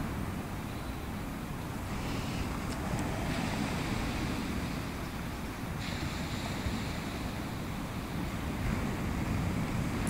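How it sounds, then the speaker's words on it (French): Ocean waves washing continuously onto a beach, a steady, loud broadband roar of surf with wind buffeting the microphone, unbroken and without voices. "Tu entends les vagues."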